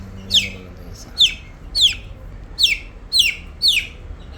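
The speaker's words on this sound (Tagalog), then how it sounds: "Yan ang ating chicken guys." Six short, high-pitched peeping calls from black Spartan chickens repeat at a steady pace over a quiet background, like young chicks chirping nearby.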